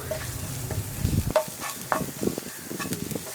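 Masala spice powder sizzles and fries in a pan while being stirred for a spicy bread snack, with scraping strokes and soft crackling close up and no voices.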